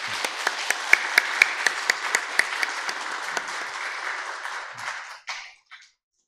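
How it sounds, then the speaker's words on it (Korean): A church congregation at a Sunday service applauds in a steady, dense round of clapping, with a few louder claps standing out early, fading out and ending with a couple of scattered final claps. "다시 한번 큰 박수로 축복하겠습니다"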